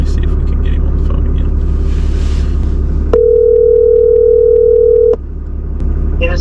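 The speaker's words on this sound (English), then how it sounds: "Let me see if we can get him on the phone" A telephone dial tone sounds steadily for about two seconds over a constant low car engine rumble, then cuts off as the call is placed from inside a vehicle.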